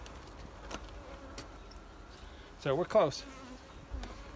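Honeybees swarm thickly around an open hive during a mite check, keeping up a steady, close buzz as individual bees zip past near the ear, while a person speaks briefly over the hum.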